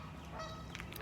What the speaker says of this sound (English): You got to watch out for the geese here, though, in the park.